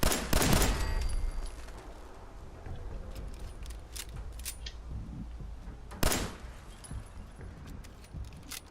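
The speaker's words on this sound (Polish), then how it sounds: "Co to był za wybuch?" An explosion in the Fallout 4 video game bursts loud at the start, followed by sharp crackling gunfire-like bangs and a rumbling wash, with a second sharp blast about six seconds in.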